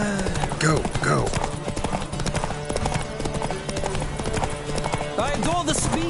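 Hooves clatter in a fast, steady gallop over lively music in The Witcher 3, with a horse whinnying briefly near the end.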